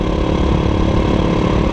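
A motorcycle engine idles loud and close on a roadside in Roraima, Brazil, with a steady, even low rumble and no change in speed.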